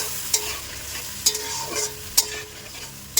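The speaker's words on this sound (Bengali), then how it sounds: "আর এখানে হচ্ছে রাতের জন্য সয়াবিনের তরকারি করছি।" A utensil stirring soybean curry in a pan, with a steady low sizzle under several sharp scraping clacks spaced about a second apart.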